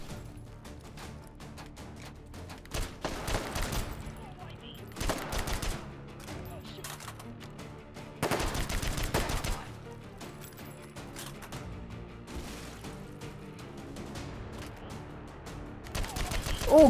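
Gunfire rattles through Take & Hold in the VR shooter H3VR, with repeated sharp bursts of shots at irregular intervals over low ambient noise.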